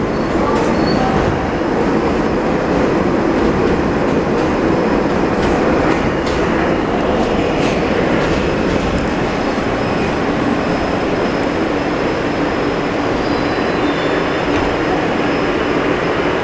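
An R160 New York subway train on the M line via Broadway-Brooklyn rides along with a loud, steady roar of motor and rail noise, rhythmic wheel clatter and faint squeals running unbroken throughout.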